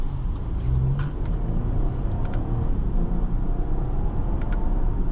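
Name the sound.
2023 Audi Q8 55 accelerating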